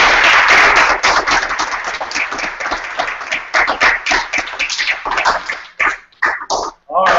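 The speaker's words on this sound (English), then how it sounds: "Let's give our speaker one last round of applause." An audience at a planetary radar astronomy talk claps loudly for the speaker, dense applause at first that thins into scattered, separate claps and fades out near the end.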